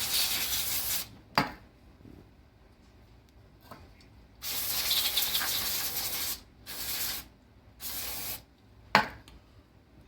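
Cleaner is sprayed onto the motor terminals of a Ryobi drill during disassembly: a series of sharp, hissing spray bursts, some brief and some lasting a couple of seconds, with faint rubbing and clicks between them.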